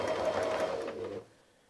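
Sewing machine stitching straight lines through the fin of a quilted firefish appliqué, a steady rapid whirring hum that stops abruptly near the end, leaving quiet.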